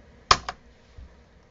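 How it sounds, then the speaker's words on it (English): Keys on a Mac keyboard being pressed, a close sharp click followed quickly by a lighter second click and a faint third tap, quiet and alone. "All you're going to do is either click on the Enter or the Return button, depending on what it's called on your keyboard"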